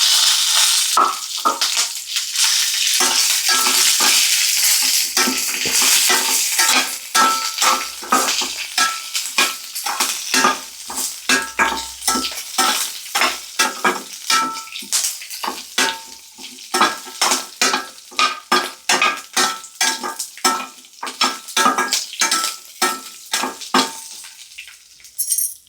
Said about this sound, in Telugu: ఇవన్నీ కొంచెం ఫ్రై అయిపోయిన తర్వాత ఇందులోనే పచ్చిమిర్చి వేస్తానండి.